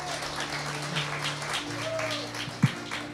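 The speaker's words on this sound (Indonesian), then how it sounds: "Beri tepuknya yang meriah buat Tuhan Yesus Kristus." A church congregation claps together in steady, sustained applause while held keyboard notes ring underneath.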